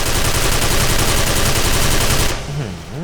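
An XM8 machine gun fires a loud, rapid continuous burst in a shooter video game, then stops abruptly as a voice speaks briefly.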